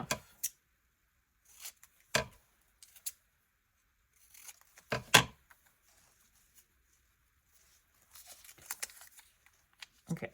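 Scissors cutting through magazine paper up close, a handful of crisp snips separated by quiet pauses, some in quick pairs.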